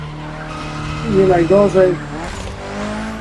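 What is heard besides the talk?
car drifting, tyre squeal in racing video game with Logitech G29 wheel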